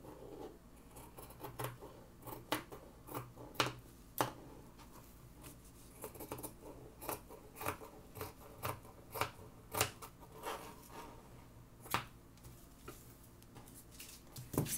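Scissors cutting dress fabric, repeated crisp snips in an uneven rhythm, close and fairly quiet over a soft background.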